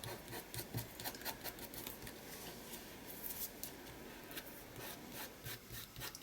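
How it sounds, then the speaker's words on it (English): Fingers rubbing excess spirit glue off a collaged art piece, producing a soft, continuous scratchy friction with short brisk strokes, faint and close, with no speech. "if you just rub it gently, it just kind of rubberises, balls up, and then you can just wipe it away"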